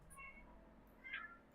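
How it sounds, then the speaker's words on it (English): Cat meowing: two faint, short meows at low volume over a soft background hum, the second slightly stronger than the first. "my cat here already"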